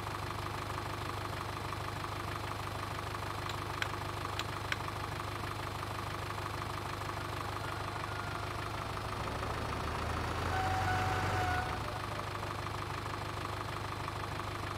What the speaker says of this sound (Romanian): Ok, tractorul ăsta a plecat de nebun.